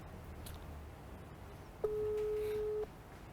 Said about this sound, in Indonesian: Gua telepon Regennya. Telepon lagi